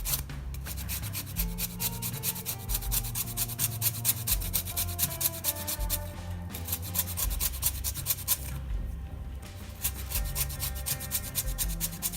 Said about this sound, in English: Now I'm gonna put a little bit of lemon zest to it.